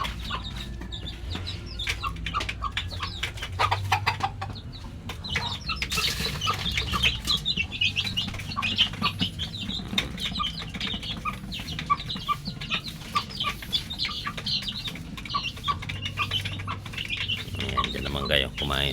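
Chickens and hens clucking and chirping while being fed grain, a steady busy flock sound up close with occasional wing flaps and a person speaking intermittently over them.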